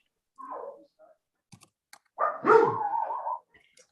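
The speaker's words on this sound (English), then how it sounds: "Your schnauzer's too noisy." A schnauzer barks during an online meeting: a short yelp, a few faint clicks, then a louder, longer bark-whine close to the microphone, with no talk over it.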